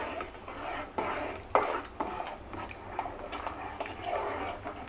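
A spoon stirs sago and sesame in a metal pot, scraping and clinking against the sides in irregular close taps and knocks, with soft background noise.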